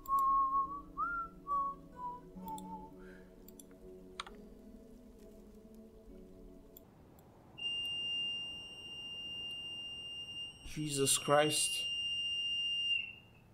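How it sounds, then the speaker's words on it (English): Fire alarm test in a building, with a steady high electronic alarm tone sounding from midway on, joined by loud bursts of pulsing beeps near the end, while a man exclaims over it after earlier whistling. "it's the fire alarm test"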